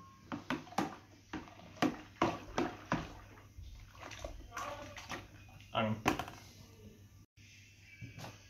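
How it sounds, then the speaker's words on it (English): Nettle beer mixture being stirred in a container, giving a run of close, rhythmic sloshing and knocking strokes that fade into quieter liquid movement. "Start to stir this up"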